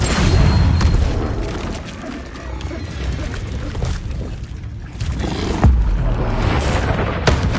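A Tremendo spell blast in Hogwarts Legacy lets out a loud, deep, rumbling boom with a roaring roll that fills the whole stretch and swells again near the end.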